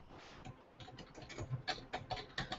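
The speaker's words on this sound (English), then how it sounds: "I'm sorry if this sounds really loud on my, typing up here." Fingers tap on a computer keyboard up close in an uneven burst of quick clicks, getting faster and sharper toward the end, with no talking.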